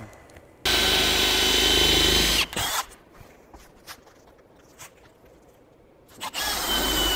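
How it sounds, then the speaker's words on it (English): A power drill bores into a wooden roof truss while solar mounts are fitted on a roof: a loud, steady whirring burst of about two seconds, then scattered knocks and handling noise, then the drill starts up again. "and drill it out."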